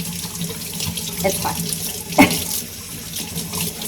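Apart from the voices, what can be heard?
water running while washing plant leaves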